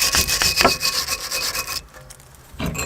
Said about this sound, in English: what we're going to do is just clear with a wire brush the caliper carrier where the pad's sitting